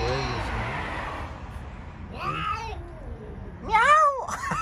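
Cats in heat meow and caterwaul with drawn-out, rising cries, a wailing call early on and then two louder bursts near the end, mixed with background noise and voices.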